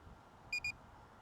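A DJI Avata drone gives two quick, bright electronic beeps in rapid succession, clear over a faint low background hum.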